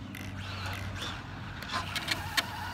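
An Arrma Infraction 6s RC car driving back toward the operator, its electric motor giving a faint rising and falling whine against outdoor background noise.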